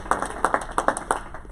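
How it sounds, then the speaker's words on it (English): Scattered hand claps from an audience at an Oregon transportation summit, applauding the state legislature's transportation package: about eight to ten crisp claps in quick, uneven succession, thin and brief rather than a full ovation. "we should give them a round of applause"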